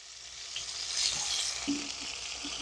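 Chicken pieces frying and browning in a pan, a steady close hiss and sizzle of hot oil with a few soft crackles, no voices.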